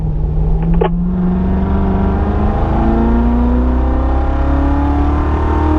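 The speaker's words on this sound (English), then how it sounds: "Good, accelerate smooth all the way down." A car accelerates hard up through the gears toward fifth on a track, the engine note climbing steadily in a loud, close roar with a brief click early on.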